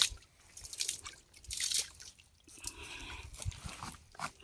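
Water drains and trickles out of a small fishing pit, with intermittent dripping and splashing bursts, close and moderately loud.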